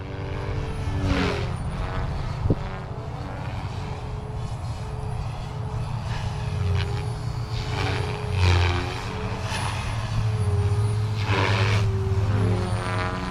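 An OMP Hobby M4 or SAB Goblin RAW 420 RC helicopter in fast forward flight, a loud sustained rotor and motor whine with rising and falling tonal bands as it passes, with steady low buzzing underneath throughout.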